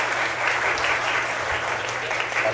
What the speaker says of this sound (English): we can ask the audience if you'd like to applaud and thank our candidates